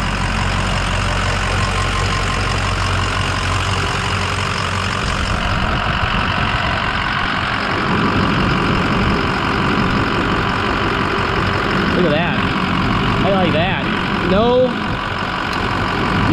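A 2007 Ford F550 diesel engine idles with a steady, loud rumble throughout, while a person talks over it for part of the time.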